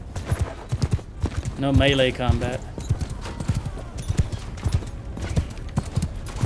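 Horse hooves clip-clop at a steady trot in the video game Mount & Blade II Bannerlord, with a brief whinny-like cry and someone talking over the hoofbeats.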